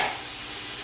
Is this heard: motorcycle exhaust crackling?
no